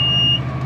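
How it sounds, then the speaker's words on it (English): A seed drill's seed alarm beeps inside a tractor cab: a single high electronic tone sounds for about half a second over the low, steady hum of the engine, then cuts off. "Seed alarm's going on."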